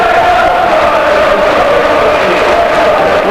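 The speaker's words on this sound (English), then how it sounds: "he's quite prepared to acknowledge the applause of the crowd" A large football crowd at Ayresome Park applauds and cheers in a loud, dense roar, held steady for a few seconds with no gaps.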